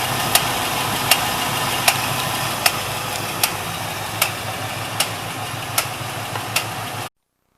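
A 1973 Pontiac Trans Am with a 455 V8 idles with an abnormal noise: a steady rumbling run broken by sharp ticks or knocks roughly every 0.7 seconds, close up, before cutting off suddenly.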